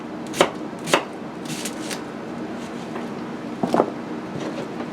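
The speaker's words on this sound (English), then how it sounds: "give me just a second to get these cucumbers sliced up" A knife slices through cucumbers on a cutting board in a few distinct knocks, two spaced chops early then a quick cluster later, close and crisp over light background noise.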